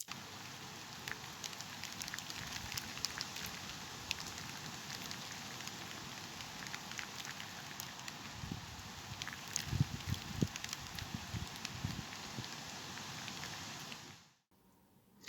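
Steady rain falls outside, a dense, even hiss of drops with occasional louder spatters, continuing throughout before cutting out abruptly near the end.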